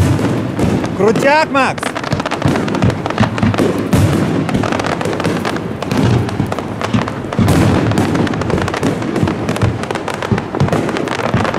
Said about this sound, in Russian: Там в море стоит корабль в водичке, и с корабля пускают салют